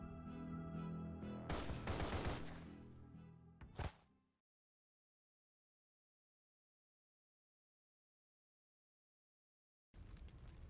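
Rapid bursts of gunfire from the video game Path to Nowhere sound loud and close, with a final sharp shot before the clip drops into a long silence, then quiet background sound returns.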